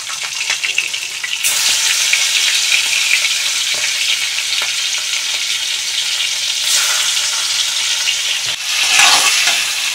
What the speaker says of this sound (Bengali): মাছগুলোকে আমি খুব বেশি ভাজা করব না, একটু হালকা ভাজা করব